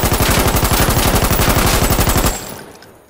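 Automatic fire from a grease gun submachine gun in the video game Insurgency: Sandstorm, a loud, close, steady rapid burst lasting about two seconds before cutting off into a fading echo.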